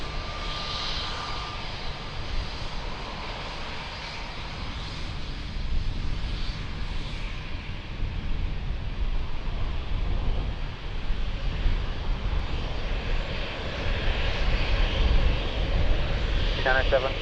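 An airplane takes off from runway 02 at Lisbon Airport, its engine roar building from a distant rumble into a louder, fuller drone, with voices heard along with it.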